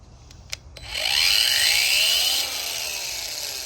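A HYCHIKA 20V cordless angle grinder spins up after a few clicks, its high whine rising to full speed, then settling into a slightly lower steady drone, close and loud with no talking.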